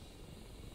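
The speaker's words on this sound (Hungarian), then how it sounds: "Az korrekt, hogy ez a helikopter most itt felszáll?" A helicopter takes off in the flight simulator DCS World, with a dense, steady rotor and engine roar filling the short moment without pause.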